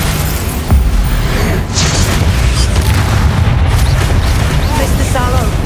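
A Bombarda spell explodes in Hogwarts Legacy, a heavy boom near the start followed by rumbling debris and game effects, with a voice calling out in the clip.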